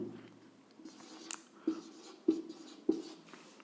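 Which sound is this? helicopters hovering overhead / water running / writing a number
writing a number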